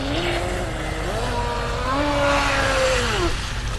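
A small RC boat motor on water whines steadily, its pitch rising and falling as the low throttle shifts, over a constant wash of broad noise.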